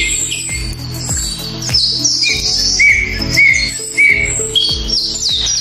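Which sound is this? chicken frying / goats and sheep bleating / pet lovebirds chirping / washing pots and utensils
pet lovebirds chirping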